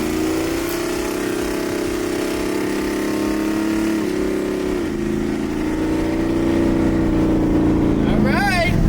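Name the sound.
Jaguar car engine revving with a little throttle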